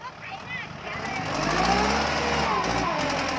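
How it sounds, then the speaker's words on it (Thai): A farm tractor engine labours while pushing heavy clay soil, its low rumble rising and holding steady at a moderate distance as people talk over it. "พึ่งขับ รถไถกันบ้างครับ"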